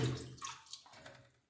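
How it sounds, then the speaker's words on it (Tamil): Soaking water poured off chilled urad dal straight from the fridge, a short close splashing trickle of water that tapers off within a second or two, with no talk. "ஃபஸ்ட்டு அதோட தண்ணியை ஊற்றி விட்டு"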